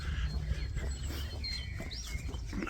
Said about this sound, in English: Still, can hear the birds hopefully.